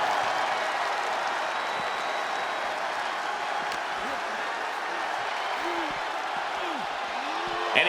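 A wrestling arena crowd in WWE 2K26 Smackdown gives off a steady, moderately loud roar of cheering and applause that carries on without a break, with a commentator's voice faintly over it.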